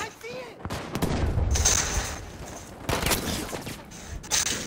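Rapid video-game gunfire rattles in dense bursts of shots, loud and near, with a player's voice talking over parts of it.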